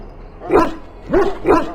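A dog in the video game Dragon Age: Origins gives three short, loud barks close by, the last two quick together, with no talking.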